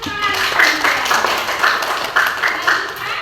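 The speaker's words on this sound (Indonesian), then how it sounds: "Jadi tepuk tangan." A classroom of students claps together in a quick, patterned rhythm, a run of sharp hand claps with short pauses between groups, loud and close in an echoing room.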